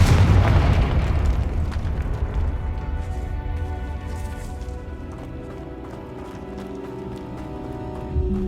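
A loud Confringo spell explosion from the video game Hogwarts Legacy booms right at the start, then its rumbling tail slowly fades over several seconds beneath ongoing game ambience.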